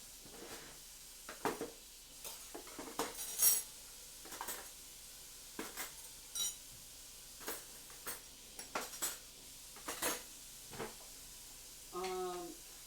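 Spatulas and kitchen utensils are handled in a cramped kitchen, with scattered close clatters and knocks spaced a second or so apart and one brief buzzing rattle near the end. The background is otherwise quiet.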